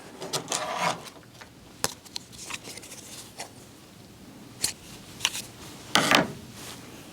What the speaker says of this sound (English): We can cut our yarn